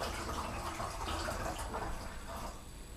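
Liquid pouring into a container while making homemade kvass, a sugary wort running in as a continuous splashing stream close by that thins and softens toward the end.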